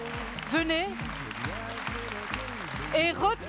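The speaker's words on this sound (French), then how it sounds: "On peut les applaudir, s'il vous plaît." An audience applauds the project team at the AKT for Wallonia evening, with clapping running under loud rhythmic music and brief sung or shouted voices throughout.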